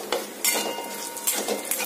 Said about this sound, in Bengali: ফোড়নটাকে একটু নাড়াচাড়া করে নিয়ে